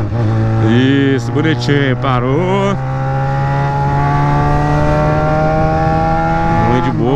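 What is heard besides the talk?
Yamaha XJ6 motorcycle engine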